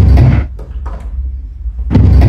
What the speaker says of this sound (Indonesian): itu adalah pintu yang terbuka tutup sendiri